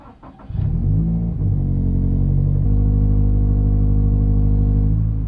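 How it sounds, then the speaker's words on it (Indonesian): A Toyota GT86 boxer engine cranks and catches, then settles into a loud, close rumbling idle before being revved up to a higher sustained drone and easing back down. "dia lebih ke arah boxer-boxer gitu suaranya, rumble"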